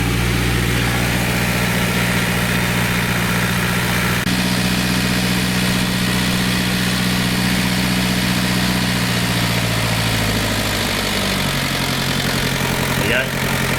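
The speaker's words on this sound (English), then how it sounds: "As you can hear, my idle's gone far too high," A diesel engine idling too high while being adjusted, a loud steady low drone that runs throughout and shifts slightly in pitch near the end.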